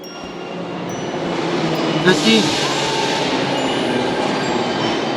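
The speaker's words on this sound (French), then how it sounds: "Le métro, il faut aller dans le métro." A metro train rolls past in the horror video game The Happyhills Homicide 2, a steady rumbling rail roar that swells slightly midway and carries on beneath people talking excitedly.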